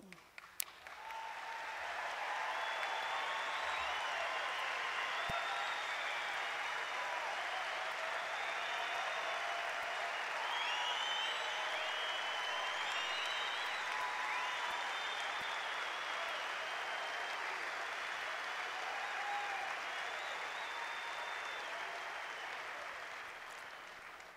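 Audience at an Alcoholics Anonymous Founder's Day gathering in Akron, Ohio applauding a speaker: sustained, evenly dense clapping from a large crowd that builds quickly and carries on for over twenty seconds, heard somewhat distant and alone.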